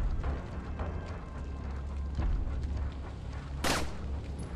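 A gunshot rings out in Resident Evil 4 on Xbox One, a single sharp crack near the end, set against a low rumbling game ambience with a few softer thuds before it.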